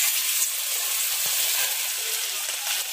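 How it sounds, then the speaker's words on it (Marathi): Fish frying in very hot, steaming oil in a home kitchen, a loud continuous hiss-like sizzle that holds steady throughout with no talk. "तेल एकदम कडक तापलंय वाफा येत आणि आता हे फिश फ्राय करून घेत आहेत"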